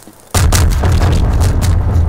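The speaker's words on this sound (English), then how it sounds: "Hooray! Fireworks." Fireworks bursting in the video game Garry's Mod, a sudden loud boom followed by a dense, sustained crackling and rumbling barrage of pops and blasts that continues without pause.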